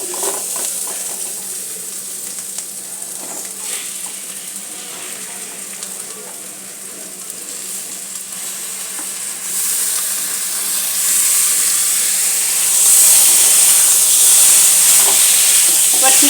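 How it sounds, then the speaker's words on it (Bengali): Chicken frying with spices in a pan for Bengali chicken kosa, a steady close sizzle and hiss that grows louder and brighter toward the end. "মশলাগুলো দেওয়ার পর আমি চিকেনটা দিয়ে কষতে থাকবো।"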